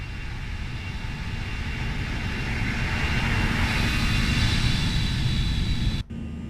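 An Airbus A320 in the Flight Factor A320 simulator, its jet engines at takeoff thrust giving a loud, continuous broadband roar with a faint high whine, steady throughout and cut briefly near the end.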